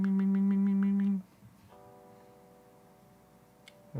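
A paintbrush taps against a palette about seven times in quick, even succession, with a voice singing 'bing' along with each tap, then fades to a quiet room.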